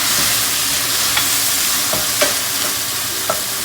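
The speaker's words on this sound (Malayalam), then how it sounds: "ഇതൊന്ന് ഫ്രൈ ആക്കിയാൽ മാത്രം മതി." Mushrooms fry in a pan with soy and chilli sauces, giving a loud, continuous close-up sizzle with a few light scrapes of a stirring utensil.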